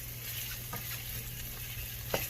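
Meatballs with onion and garlic frying in a pan, giving a steady close sizzle with faint crackles and a small pop near the end, with no voices.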